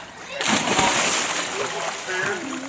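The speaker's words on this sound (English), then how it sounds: "Go ahead, Tamari. Jump one more time" A person jumps into water with a loud splash early on, followed by sloshing and splattering, while people talk nearby.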